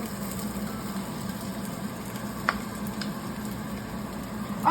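Onions and mushrooms sautéing in a pan for a filet mignon dish give a steady, close sizzle, with a few faint scrapes of stirring near the end.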